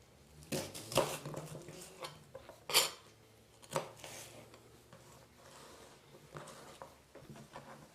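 A knife taps against a chopping board while vegetables are cut for soup, giving a few irregular sharp knocks, some louder than others, spaced across a quiet kitchen background.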